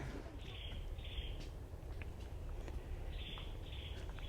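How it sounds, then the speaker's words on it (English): Faint, high bird calls repeat in short pairs of buzzy notes over a low, steady outdoor rumble in a mangrove forest in Rayong, Thailand, with no one talking. "you walk through here, you just hear the birds."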